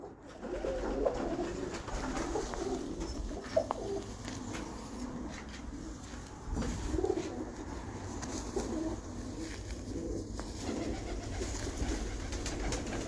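Pigeons coo softly and repeatedly in a loft or open ground, a low steady murmur of several birds with a few brief louder calls, no talking.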